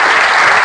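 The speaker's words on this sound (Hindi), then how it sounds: "पूजा के लिए तालियां बजाओ सब लोग" A crowd at an outdoor tree-distribution event in a Rajasthan village claps for a young woman named Pooja. The clapping is loud, dense and steady through the whole short burst.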